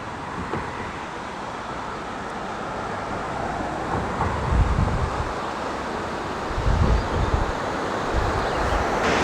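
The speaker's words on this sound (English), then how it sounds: "I wonder if you could raft or inner tube down this river here with all these rapids." Rushing river rapids at Quechee Gorge in Vermont roar as a steady, broadband wash that holds level for the whole stretch, with gusty wind buffeting the microphone in a couple of brief surges.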